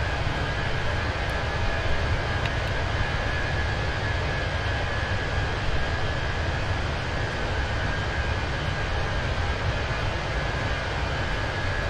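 Steady, loud Airbus A320 engine roar heard from outside the aircraft in a flight simulator, a constant broadband drone with no breaks across the whole stretch.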